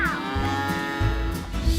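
Cattle on a working farm moo in long, deep, drawn-out calls, loud and close, one low bellow following another without any talk.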